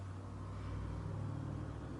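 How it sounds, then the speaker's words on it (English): Outside, a car goes by as a low, steady engine rumble that holds at a moderate level the whole time. "Oh, no, it was a car."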